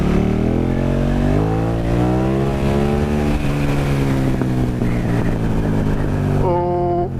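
A KTM Super Duke motorcycle, fitted with modifications, runs loud and close with a revving engine note that climbs and falls over several seconds before a sharp rev at the end.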